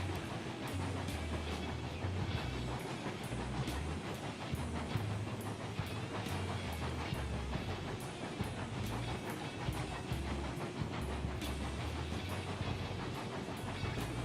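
A steam locomotive in the Railroads Online video game works under load with a steady rapid chuffing rhythm, rolling clatter and hiss beneath, moderately loud and continuous.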